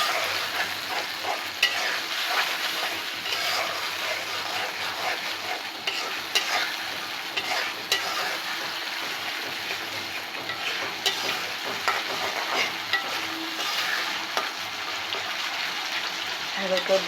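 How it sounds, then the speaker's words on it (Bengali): Whole spices sizzle and crackle in hot oil for a chicken roast while a spoon stirs them steadily, a dense, continuous frying hiss with scraping close by throughout. "এখন আমি মশলাগুলো দিয়ে দিচ্ছি। খুব ভালোভাবে কষিয়ে নিচ্ছি।"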